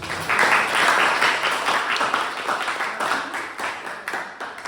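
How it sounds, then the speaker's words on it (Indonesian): Audience applause at a school presentation on tectonic plates, a dense, steady wash of many hands clapping that swells early and then slowly tapers off, heard alone without talk. "tepuk tangan untuk itu"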